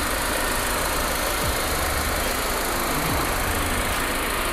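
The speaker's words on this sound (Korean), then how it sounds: "엔진 소리 일정합니다" A Mercedes-Benz E-Class W212 E200 CGI engine idles with a steady, even rumble, running continuously at close range with no voices.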